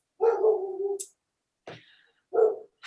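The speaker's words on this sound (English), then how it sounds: "my dog is breaking my door down" A dog barks at a door while wanting to come in, giving a long bark, a short yip and a final bark, close and fairly loud with silence between.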